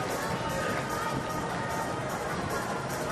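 A crowd at a community award ceremony claps together in a steady, sustained wash of applause that fills the hall evenly from start to end.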